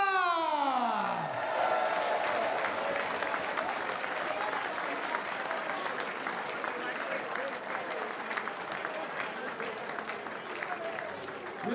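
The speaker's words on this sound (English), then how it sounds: "a massive round of applause for our finalist as he leaves the stage" A darts championship crowd gives a big, sustained round of applause with some cheering and whoops as a finalist leaves the stage, dense and steady throughout.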